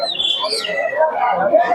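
Birdlike calls at the Santipur bird market, where pigeons sit in cages, rise and fall close by with overlapping wavering tones and no clear break.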